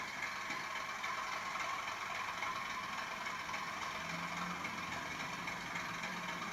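Model Class 37/7 Europhoenix diesel locomotive with DCC sound plays a steady, faint engine idle with a continuous droning rumble and no voices.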